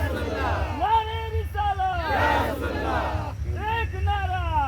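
Crowd at a Garib Nawaz religious conference in Bichiya, Bihar, chanting slogans in loud, rhythmic bursts of many voices together, a close, dense mass of calls rising and falling in repeated phrases.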